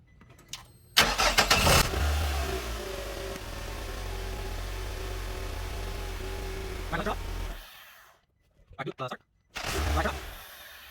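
A car engine cranks and catches during a transmission fluid flush, then settles into a loud, steady idle for several seconds before cutting off, followed by brief clicks and another burst of engine noise.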